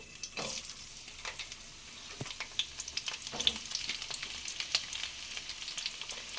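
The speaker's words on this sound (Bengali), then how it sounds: "পটলগুলোকে সামান্য ভেজে নেব সামান্য একটু নাড়াচাড়া করে নিচ্ছি" Sliced pointed gourd frying in oil with nigella seeds, a soft continuous sizzle punctuated by scattered spatula scrapes and clinks as the pieces are stirred in the pan.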